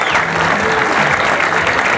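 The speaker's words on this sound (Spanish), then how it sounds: "quiero escuchar de nuevo los aplausos" A live audience claps loudly and continuously at an evening cultural festival honoring the Virgen del Carmen, a dense wash of applause close up with faint voices mixed in.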